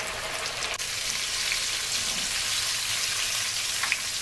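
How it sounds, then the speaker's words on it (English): Pieces of corvina fish frying in hot oil in a pan, a steady close sizzle and crackle with occasional louder pops, heard alone with no talk. "You want the fish to be nice and crisp on the outside when it fries."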